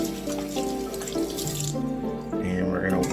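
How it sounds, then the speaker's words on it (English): Tap running into a kitchen sink while hands are washed during pancake preparation, a close, steady splash of water for a few seconds with shifting tones and faint background noise. "Wash my hands real quick."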